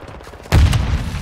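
Grenade explosion with gunfire in the video game Call of Duty MWII, a sudden loud boom that bursts out after a quieter start and rumbles on with echoing shots.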